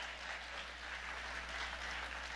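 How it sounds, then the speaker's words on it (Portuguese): A church congregation applauds during a Sunday morning family service, steady continuous clapping from many hands filling the room without a break. "Aplauda o Senhor nessa manhã, porque eu creio que Deus já fez."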